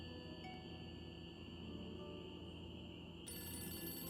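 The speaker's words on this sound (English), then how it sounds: "Oh, phone call." A telephone rings in a Nancy Drew video game, a faint steady electronic ringing tone that holds throughout and shifts brighter near the end, over a quiet low background hum with no speech.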